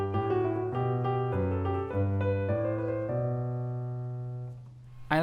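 A piano plays segment B of Mozart's Eine Kleine Nachtmusik as a short transitional phrase of sustained notes and chords, steady and moderately loud, then decaying as the last note rings out.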